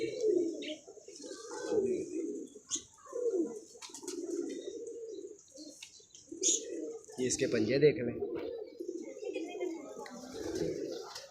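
Pet pigeons kept by a hobbyist coo softly and repeatedly nearby, with scattered chirps throughout. Someone talks over the steady cooing.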